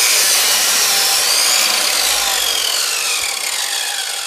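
Saw cutting through clamped laminated veneer lumber, a loud continuous rasping, whirring bite through the wood that eases slightly toward the end, heard close with no talk.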